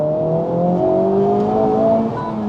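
A Honda Civic Type R FL5 engine pulls hard under acceleration in R+ mode, a loud steady rising drone heard from inside the car with no talk.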